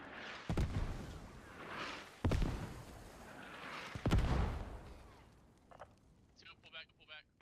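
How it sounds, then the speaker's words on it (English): Mortar fire in the military shooter game Squad: three heavy booming blasts roughly two seconds apart, each with a long rumbling tail, followed by faint voice-like radio chatter near the end. "mortars"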